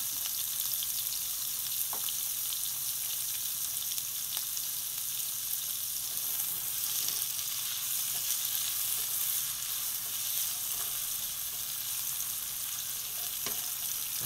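Onion frying in half a cup of oil in a glass baking dish, a steady, dense sizzle crackling continuously and evenly throughout, close and alone with no talking.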